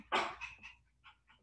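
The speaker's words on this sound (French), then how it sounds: "Désolée pour mon chien." A pet dog barks once loudly and close by, followed by a few quieter yips and whimpers during a French-language work-from-home explanation.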